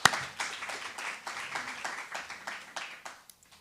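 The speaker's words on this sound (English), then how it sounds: "One more applause, please." Audience applause at a panel event on whether South Africa should ban social media for children: a faint, steady run of claps with a regular beat that tapers off near the end.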